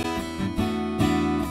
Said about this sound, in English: I've got a stereo track with a mono guitar